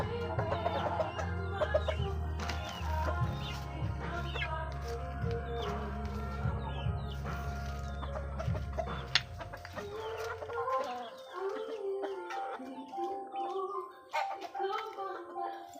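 Young roosters (stags) cluck and call nearby over a steady low engine drone that stops partway through. The clucking continues in quieter surroundings afterward.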